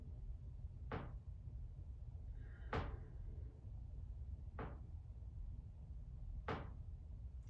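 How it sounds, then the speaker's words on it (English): Wooden floorboard creaking under shifting weight in a quiet room during a gentle yoga stretch, four short separate creaks spaced about two seconds apart, fairly faint and alone. "Got a creaky board."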